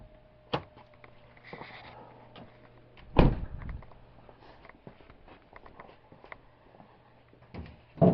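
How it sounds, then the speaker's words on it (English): Hood of a 2011 Subaru Legacy being opened: a few sharp metallic clunks and latch clicks, with one heavy thud in the middle, then quieter rustling and a final clack, all close by. "Open the hood."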